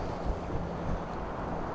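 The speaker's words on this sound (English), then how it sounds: "it's windy today" Steady low wind buffets the microphone in a continuous rumbling roar beside water in Louisiana where a sailboat passes, with no voices present.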